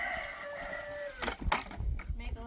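Chickens on a wintry highland farm, one rooster crowing with a long drawn-out call, followed by scattered clucks and clatter nearby.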